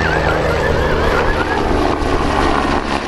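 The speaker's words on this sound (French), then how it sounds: "les fameux dragons, avec leurs hélicoptères" An Interior Ministry Dragon helicopter flies at the Cholet air show, its rotor and turbine making a loud, steady, close roar with a wavering high whine running through it.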